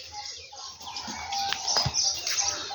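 Small birds chirp near a nest in a neem tree, scattered short tweets over a quiet outdoor background, fairly faint with soft voices and stirring nearby.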